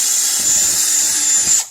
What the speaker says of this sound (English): Drill a hole in here.